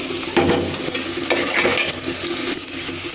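Onions sizzle steadily in hot oil, close and loud, while a utensil stirs and scrapes through them every second or so, with no voice.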